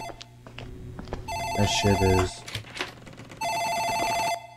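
An office telephone rings in a horror video game with two long, loud bell rings separated by a pause, while someone talks over the first ring.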